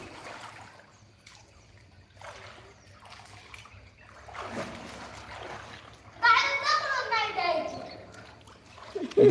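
A child jumps into a village well with a clear splash of water near the end, following splashing and a person wading in, with people talking throughout.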